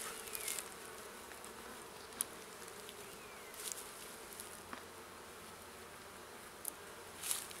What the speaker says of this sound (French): je ne voudrais pas écraser des abeilles